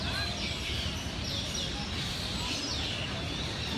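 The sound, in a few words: birds chirping in jungle park at base of towers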